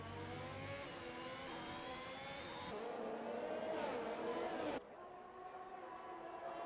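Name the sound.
F1 race cars on track in F1 2021 video game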